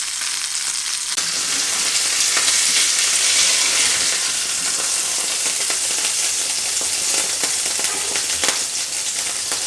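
A beef burger topped with soft Munster cheese sizzles and fries steadily in a pan, a loud, continuous crackling hiss. Small clicks and ticks of utensils sound now and then.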